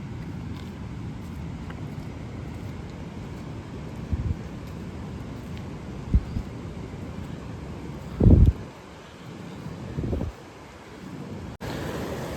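Rain falling steadily outdoors on a Himalayan mountain trek, with a constant wash of drops, occasional louder low rumbles and gusts of wind buffeting the microphone, and no voices.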